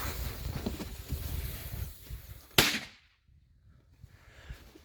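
A bigger store-bought or homemade firecracker goes off with a single sharp, loud bang after a few seconds of rustling outdoor background, then quiet follows.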